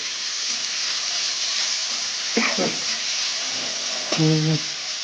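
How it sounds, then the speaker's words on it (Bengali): Onions frying in oil in a pan for Bengali mutton kosha, a soft, steady sizzle with occasional stirring scrapes, and a brief voice-like tone near the end. "পেঁয়াজগুলো ভেজে নিচ্ছি তেলে"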